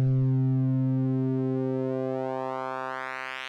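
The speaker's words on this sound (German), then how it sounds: "die wird jetzt verzerrt mit einer normalen Sinuswelle, sodass die quasi fast zu einer normalen Sinuswelle wird mit so einem Puls drin" A Bitwig Phase-4 synth plays a sine wave phase-modulated into a pulse, a steady buzzy tone with strong harmonics whose upper partials sweep upward as it sustains alone and slowly fades.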